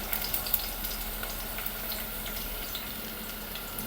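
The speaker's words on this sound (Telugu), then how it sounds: "ఈ ఆనియన్ ముక్కలు వేసుకున్న తర్వాత అలా కలుపుకోవాలి" Onion pieces sizzle steadily in a hot pan for coconut milk rice, a continuous close crackling hiss with small pops and no voices.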